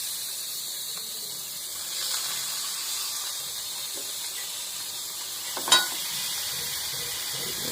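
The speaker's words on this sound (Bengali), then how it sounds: "এখন ম্যারিনেশন করে রাখা মাংসগুলো কড়াইয়ে দিয়ে দেব।" Marinated mutton fries in a kadai for mutton kosha, a steady soft sizzle and hiss running throughout, with one brief sharper crackle partway through and no talk.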